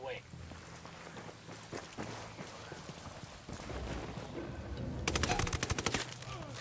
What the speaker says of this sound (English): But they heard the shots